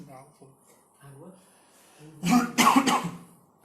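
Several loud, close coughs burst out in a quick cluster near the end, following quieter speech-like voice sounds in a room where people are being let in.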